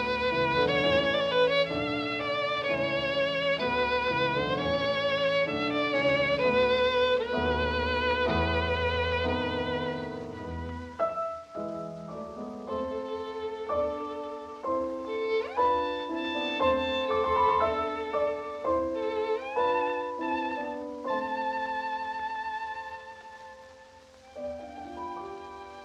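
Violin and piano from a historic recorded performance play the start of the secondary subject group in a recapitulation, with a lyrical melody over flowing accompaniment and a thin, slightly hissy old-recording tone.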